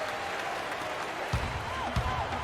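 Arena crowd in the NBA 2K15 basketball video game cheers and applauds after an alley-oop dunk, a steady roar with a few sharper swells.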